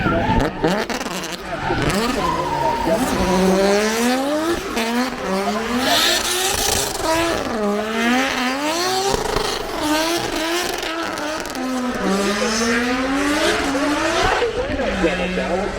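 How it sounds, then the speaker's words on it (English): A Sunoco race car climbs the hill at Goodwood Festival of Speed, its engine revving and changing pitch steadily through gear shifts, loud and continuous, with someone talking over it throughout. "The Sunoco vehicle runs up the hill,"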